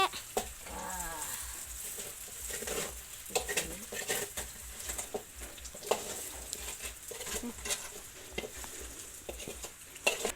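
Steady, faint patter of rain with scattered sharper taps running throughout, and a voice briefly audible early on, Thai speech, at a rural rice-farming home.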